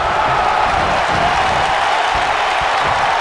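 A steady, dense roar from an arena crowd in the wrestling game WWE 2K19, a sustained wash of cheering that holds without a break.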